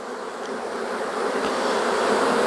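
Honey bees swarm busily around an open hive during a strong nectar flow, a steady dense buzz holding close and continuous throughout with no voices.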